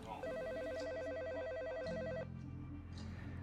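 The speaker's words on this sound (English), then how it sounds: "Immediately, the phone rang" A telephone rings with a bright electronic warbling trill lasting about two seconds, then stops, leaving a low steady hum underneath.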